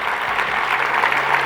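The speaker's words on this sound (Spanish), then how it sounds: "Iglesia, podemos dar un aplauso a nuestro Señor" Church congregation applauding during a worship service, a dense, even wash of many hands clapping at once, sustained and fairly loud with no talking over it.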